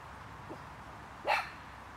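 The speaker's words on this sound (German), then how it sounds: "steht hier und bellt wie ein Irrer" A dog on a walk to the ponds in autumn gives one short, sharp bark near the end, preceded by a faint yelp, against a quiet outdoor background.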